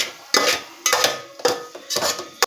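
Spices for Kolhapuri misal stirred in a pot: four bursts of a spoon scraping and clinking against the metal, close and fairly loud, with brief pauses between them.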